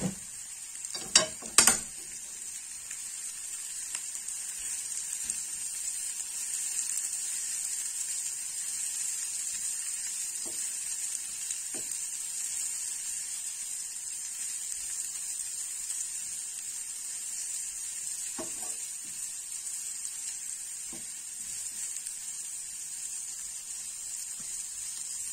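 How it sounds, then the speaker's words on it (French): Onions gently browning in a pan, a soft, even sizzle throughout, opened by a couple of sharp utensil knocks, with a few faint stirring clicks later. "On va laisser dorer nos oignons tranquillement, d'accord?"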